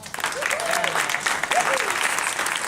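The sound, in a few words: audience applause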